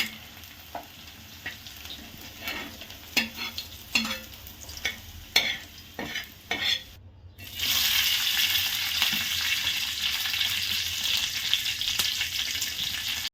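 Onion roasting in a pan for a peanut and onion thecha, with a soft sizzle and irregular scraping stir strokes at first, then a steady, louder frying hiss after a brief gap, close and with no talk.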